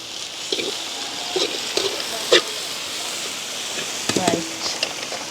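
Curry leaves and meat frying in a pan, a constant sizzle with occasional sharp crackles and stirring scrapes, close and loud, as a voice talks over it.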